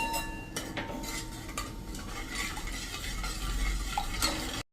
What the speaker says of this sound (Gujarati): સતત આપણે હલાવતા રહેશું